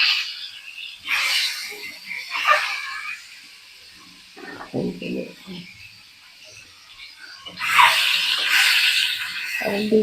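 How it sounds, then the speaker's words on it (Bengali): Whole boiled eggs browning in hot oil in a kadai: bursts of hissing sizzle near the start and again toward the end, with a person talking in the quieter stretch between. "আমি ডিমটা এখন লাল করে নিচ্ছি।"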